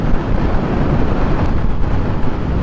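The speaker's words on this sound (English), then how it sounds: "All I can hear is wind noise, though." Steady rushing wind buffeting the microphone while riding a Harley-Davidson LiveWire electric motorcycle, a loud, constant low roar with no breaks and the motor barely audible beneath it.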